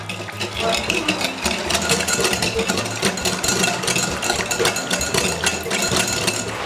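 Batter being mixed with granulated sugar, a steady, close whirring drone with a faint rattle running unbroken the whole time.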